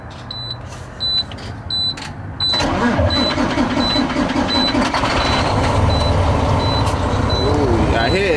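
A semi truck is heard as repeated reversing-style beeps tick at an even rhythm, then after a couple of seconds the engine catches and settles into a loud, steady diesel rumble that runs to the end.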